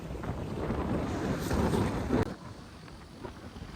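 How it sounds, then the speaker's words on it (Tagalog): Cold wind blowing near Cariño Beach in Dingalan, Aurora, heavy gusty rumble buffeting the microphone for a couple of seconds, then dropping to a softer steady rush. "Napakalamig ng hangin dyan guys"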